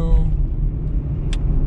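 Low, steady engine rumble from a turbocharged Ferrari 488 sports car, continuous and fairly close, with a brief high hiss near the end and no speech.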